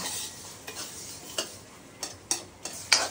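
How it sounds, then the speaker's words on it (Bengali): Lentils for khichuri are being dry-roasted in a pan at home, with a soft sizzle under several sharp, irregular scrapes and clicks of a spatula stirring against the metal. "আমি জালটাকে শুধু ভেজে রাখছি"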